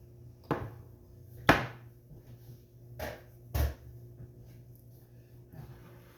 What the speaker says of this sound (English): Let's slice this up real good